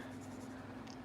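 A marker from a discount store gliding over paper while coloring, a soft continuous faint scratch held steady through the short stretch.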